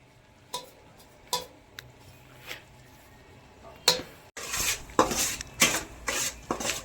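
Metal ladle scraping and clinking in an iron pan as oil is spread for peanut chikki, a few sparse taps early, then denser scraping strokes close up, with no talking.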